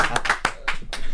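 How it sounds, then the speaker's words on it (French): Audience clapping for a guest, a handful of distinct, close hand claps in a short uneven burst rather than full applause, with some voice mixed in. "Ça, vous auriez pu applaudir plus fort"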